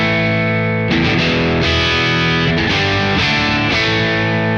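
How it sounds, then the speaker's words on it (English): A Friedman Twin Sister guitar amplifier at high gain with its bright switch off, sustaining a saturated, distorted guitar tone with chords struck and re-struck, loud and up close, no voices. "Next, I'm going to drop off the bright switch, boosting the gain to sort of 3/4."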